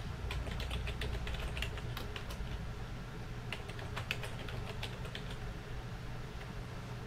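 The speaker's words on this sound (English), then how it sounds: "first you type SSH and then type what I told you to remember" Quick, close keystrokes on a computer keyboard tap out an SSH command in a terminal, arriving in irregular bursts over a steady low hum with no talking.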